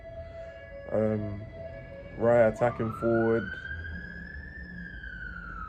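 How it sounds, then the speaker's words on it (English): A police siren wails along a London street, its rising tone sweeping upward and holding at a steady pitch in the background while someone talks over it in the foreground. "as you can hear sirens"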